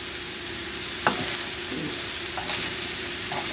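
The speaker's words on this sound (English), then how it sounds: "I'm going to let that sear for just a hair longer" Pork chops sear in a frying pan with a steady, close hiss and crackle, broken by a couple of brief clinks and scrapes from the pan.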